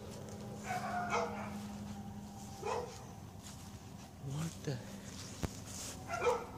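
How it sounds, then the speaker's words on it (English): Several dogs bark outdoors at a rat or groundhog in short, excited bursts, some yipping. A person talks over the barking. "the dogs are going crazy"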